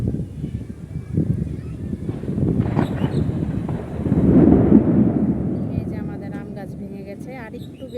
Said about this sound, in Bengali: বৃষ্টি দেখ